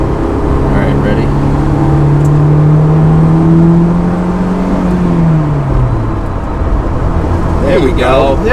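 A Honda S2000 (AP1) with a manual gearbox pulls hard and loud nearby, engine note rising and then dropping as a gear shift comes through, with faint road noise underneath.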